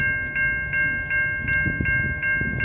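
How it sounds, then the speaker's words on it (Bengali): A Metra commuter train approaches with a low, rumbling roar underneath and a bright, evenly pulsed ringing tone repeating every fraction of a second, fairly loud and close. "এবার এই দেখো ট্রেনটা আসছে।"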